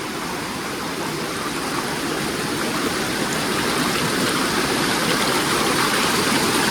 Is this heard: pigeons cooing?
no